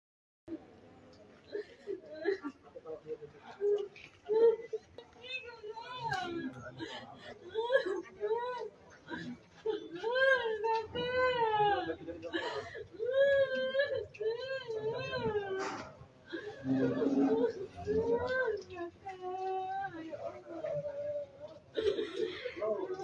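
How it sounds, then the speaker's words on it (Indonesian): Family members cry in grief outside an autopsy room, with wailing, sobbing voices rising and falling across the whole stretch, some cries high and shaky, with other voices mixed in. "terdengar suara tangisan yang pilu sekali"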